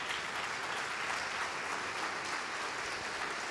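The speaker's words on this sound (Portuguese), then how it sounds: "Vamos aplaudir ao nome do Senhor." Sustained applause from a standing church congregation during a Portuguese-language sermon fills the whole stretch, a dense, even wash of many hands clapping with no break.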